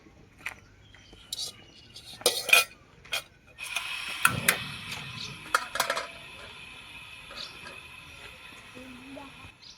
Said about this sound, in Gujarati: હવે સુધીરભાઈને છે ને તપેલી મેકી દીધી છે ગેસ ઉપર